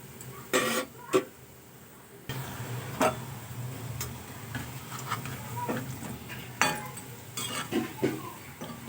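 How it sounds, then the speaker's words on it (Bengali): Lentil bori are turned one by one as they fry in a pan, giving a series of sharp, irregular utensil clicks and taps against the pan over a low, quiet sizzle, close by and without speech. "বড়িগুলোকে খুব ভালো করে উল্টো পাল্টে আমি ভেজে নেব"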